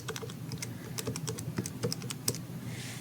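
Quick, light button presses on a handheld calculator as numbers are keyed in, a faint, irregular run of small plastic clicks heard close up with no talking.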